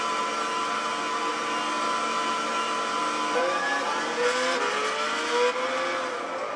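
Ford GT engine in Gran Turismo 6 drones steadily and loudly, with rising revs and pitch sweeps toward the end as it accelerates, a steady close mechanical tone throughout with no talking.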